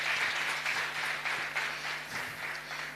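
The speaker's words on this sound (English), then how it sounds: "Let's give a big round of applause to Mr." Quiet, steady applause from an audience at a book launch, a continuous wash of many hands clapping at a distance, with a faint low hum underneath.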